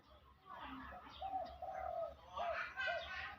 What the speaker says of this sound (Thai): นกเขานี่ครับ เสียงดีๆ ทั้งนั้นครับผม